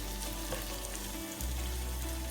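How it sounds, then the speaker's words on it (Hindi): Onions sauté gently in a pot for white chicken korma, a steady soft sizzle with a faint low hum beneath, continuous throughout. "बस हल्का सा सौते करना है, पिंक पिंक सा"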